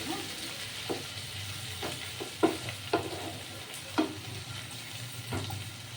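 Onion and potato fry in a pan for a kalmi shak dish, giving a steady low sizzle. Several sharp scrapes and clacks of a spoon stirring against the pan stand out above it, with no talking.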